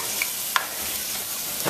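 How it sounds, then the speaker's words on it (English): A can of coconut milk is stirred into stewed oxtails in a pot, a brief steady bubbling hiss with a single sharp clink of the spoon against the pot, close, no talking. "I'm going to go in with 1 can of coconut milk. Give that a quick stir."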